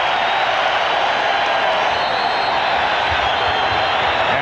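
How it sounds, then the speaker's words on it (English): A packed basketball arena crowd at the 1996 NBA Finals, Seattle SuperSonics against the Chicago Bulls, roars in a loud, continuous wall of cheering and yelling that holds steady throughout. "And this crowd exploding."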